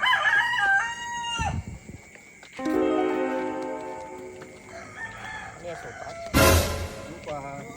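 A rooster crows loudly and close by, a long harmonic call, with a sharp burst of noise and a few indistinct voices around it.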